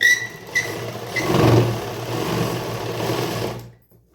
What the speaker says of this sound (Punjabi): ਹੁਣ ਦੇਖੋ ਬਾਹ ਦੀ ਸਿਲਾਈ ਲਾਉਣੇ ਆ